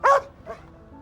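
A dog named Bailey lets out one sharp, close bark, followed by a softer, shorter yip, then quiet.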